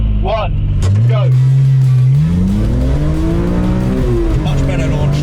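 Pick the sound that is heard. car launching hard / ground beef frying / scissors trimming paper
car launching hard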